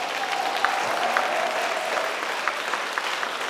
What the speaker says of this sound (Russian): Нет, тогда уже аплодируйте качественно.